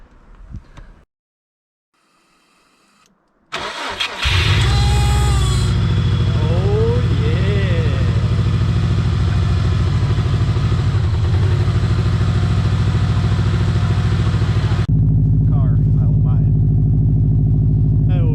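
A Subaru STI that had sat abandoned cranks after a jump start with a short grinding whir, then catches and roars into a loud, rough idle that keeps running steadily, briefly rising in pitch.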